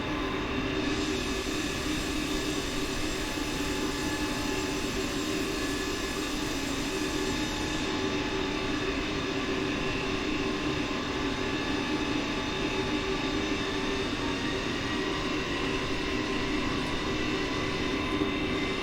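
A Cebu Pacific Airbus A320neo taxiing in Microsoft Flight Simulator, a steady loud jet engine drone with a constant whine and hum throughout, no talking.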